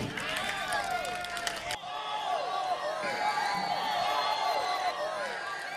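A live concert crowd roaring with cheers and whoops, a steady dense wash of many voices, loud and continuous throughout.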